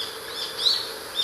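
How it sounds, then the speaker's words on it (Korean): On a forest path, birds chirp high and thin, with one brief, brighter call cutting through a faint, steady wash of background song. "까치, 까마귀도 서로 교신을 하는 듯이 이렇게 깍깍거리고 있습니다"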